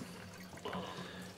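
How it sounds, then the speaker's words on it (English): E10 unleaded fuel poured from a can into a container for removing its ethanol: a brief, close liquid trickle and splash at low level over a faint background hum, with no talk. "just pour the very, very last segments of this out into this container here"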